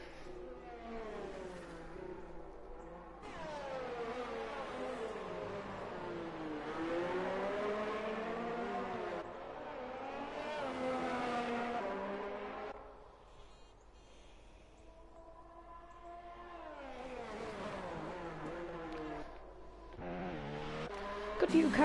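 Race cars lap the Shanghai International Circuit in a racing video game, engines rising and falling in pitch through repeated accelerations and gear shifts. A commentator talks over the steady engine noise.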